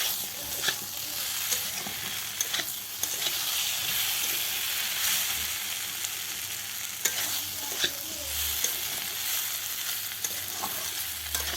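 Soybean curry sizzles and fries with spices in a pan, no onion or garlic, as a spoon stirs it with occasional scraping knocks over a steady hiss, close and continuous.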